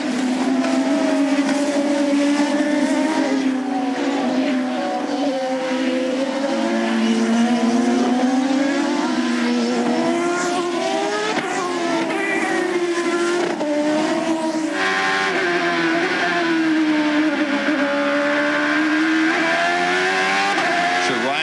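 Champ Car open-wheel race cars at the 2003 Mid-Ohio Grand Prix, engines wailing loudly and steadily with shifting pitch as cars pass, under continuous commentator talk.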